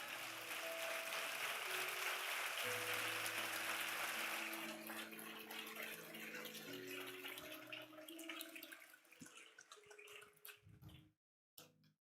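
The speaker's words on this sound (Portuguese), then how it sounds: "Dá uma salva de palmas para Jesus" A church congregation applauds during a Sunday service, broad sustained clapping that fills the room at first and then thins and fades over several seconds, with low sustained organ or keyboard tones underneath.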